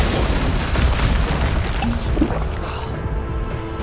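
A Bombarda blasting spell from Hogwarts Legacy bursts loudly and booms on for several seconds in a dense, rumbling explosion. A brief ringing tone follows before it tails off.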